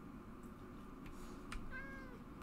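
A house cat meows a few times, soft and somewhat distant, against a quiet indoor background.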